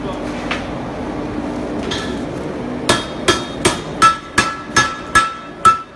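A hammer rings on round metal bar being forged into scrolls for a staircase balustrade, about nine sharp metallic strikes in a steady rhythm after a stretch of low workshop hum and a few lighter taps.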